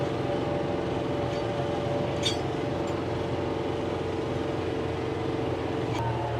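John Deere compact tractor driving in B range, its engine giving a steady, loud, rough drone with rattling, and no talk.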